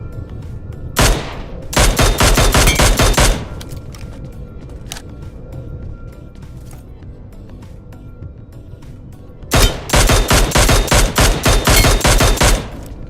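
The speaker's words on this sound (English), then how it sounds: "You will hear a specific sound when you hit a headshot." Mobile shooter game gunfire with headshot hit sound effects: two loud clusters of rapid sharp shots, each followed by a quieter stretch of faint clicks, with no talking.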